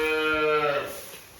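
A cow or calf in a pen during calving season gives a single close, loud moo, rising and then trailing off over about a second, with no other sounds.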